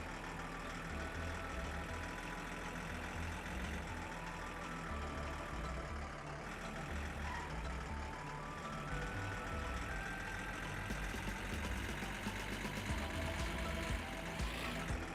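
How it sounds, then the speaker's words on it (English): A car engine runs steadily in the driving game My Summer Car, a dense, continuous mid-pitched drone that stays loud and unbroken throughout. "No, I hear his engine going."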